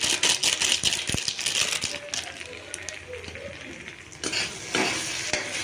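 Chana masala frying with softened tomatoes in a pan, a steady close sizzle broken by rattling spoon strokes against the metal, with loud bursts of sizzle near the start and end.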